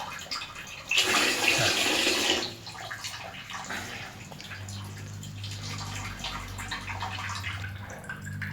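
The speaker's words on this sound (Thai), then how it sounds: "น้ำติดแล้วน้ำก็ไม่หยุดครับ บางครั้งอาจจะซึมมาแต่บางครั้งก็อาจจะไหลแรงนิดนึง" A leaking water faucet gushes loudly for a moment, then drops to a quieter background with a low steady hum and faint trickling, close by.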